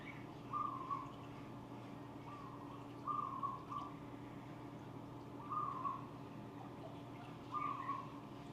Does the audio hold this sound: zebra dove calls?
yes